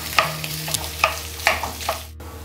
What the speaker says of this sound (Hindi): मैंने आलू को मसालों के साथ हल्का फ्राई कर लिया है